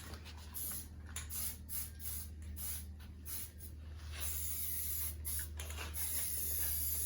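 An aerosol sprays paint onto camper metal in short hissing bursts, then one longer steady hiss, heard close and fairly quiet.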